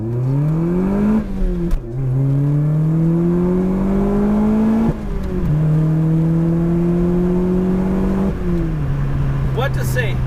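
A Lotus Elise S 220 accelerates through the gears, its engine note rising in pitch across each of several long pulls, with short drops at the shifts, loud and close from the cabin.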